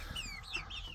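Three-month-old Adler Serebro chickens cluck and chirp close by, a brief cluster of quick high calls over a quiet background.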